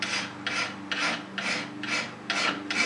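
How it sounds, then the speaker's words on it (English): Nicholson handy file rasping a steel awl point, seven rhythmic back-and-forth scraping strokes, close and fairly quiet, with no talking. "This is a Nicholson handy file."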